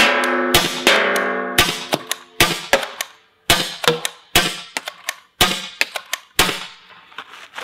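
A Spiral Rifled Termite paintball gun fires a rapid string of sharp, loud cracks, over a dozen shots in uneven bursts, each followed by a short metallic ring and decay.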